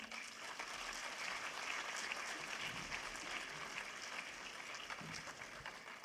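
Audience applause fills a conference hall, a steady, moderately distant clapping that continues evenly without voices.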